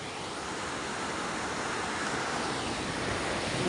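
High sea water and surging waves around a raised boat, a dense roar of surf and wind noise, steady and loud throughout, with no voices.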